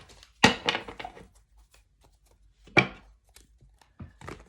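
A few sharp, crisp rustling bursts separated by quiet gaps as a tarot deck is riffled and tapped, close and with no talking.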